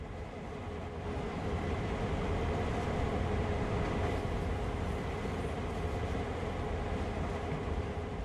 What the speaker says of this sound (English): Reduce the power to zero and allow the locomotive to coast